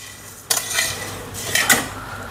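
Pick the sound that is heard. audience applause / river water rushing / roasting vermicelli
roasting vermicelli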